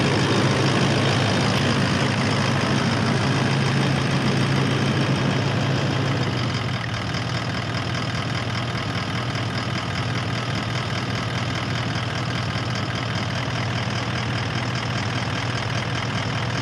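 A vehicle engine idles steadily after its fuel system is primed, a continuous loud low rumble with a slight drop in pitch and level partway through, no talking.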